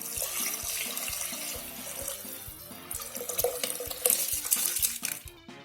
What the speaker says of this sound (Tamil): அளந்து வச்சு தண்ணியையும் இதில் மிக்ஸ் பண்ணிடலாம்.